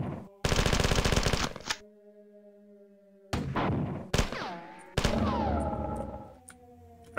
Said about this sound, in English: Look at me, I'm shooting you.